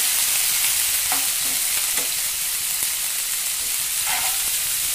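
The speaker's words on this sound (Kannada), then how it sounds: "ಮತ್ತೀಗ ಹಸಿ ಶುಂಠಿ ಪೇಸ್ಟ್ ಹಾಕಕತ್ತೀನಿ, ಸ್ವಲ್ಪ ಎಲ್ಲ ಹುರ್ಕೋಬೇಕದ." Ginger paste and finely chopped green chillies fry in a pan with a steady, close sizzle and crackle, a few soft stirring scrapes breaking through, heard alone.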